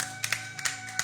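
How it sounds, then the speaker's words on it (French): Church congregation clapping in acclamation during a worship service, a few sharp claps spaced about a third of a second apart over a steady sustained tone, fairly faint and brief. "Est-ce qu'on peut acclamer dignement?"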